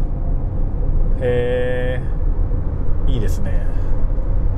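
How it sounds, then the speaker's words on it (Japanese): A Toyota RAV4 PHV prototype plug-in hybrid accelerates on its electric motor alone past 100 km/h. A steady road and tyre rumble carries a brief rising motor whine, and someone talks over it. "電気モーターだけで走ってますね。 でも超パワフル"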